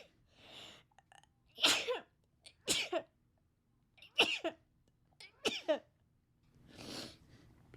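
Several separate sneezes from a person, each a sharp burst with a breathy lead-in, spread across a quiet indoor conversation setting, fairly close and distinct.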